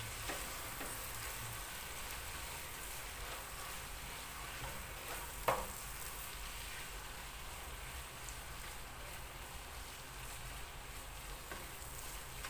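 Carrots and other thinly chopped vegetables fry in a pan for a matoke green banana dish, producing a constant faint sizzle with one brief utensil knock partway through.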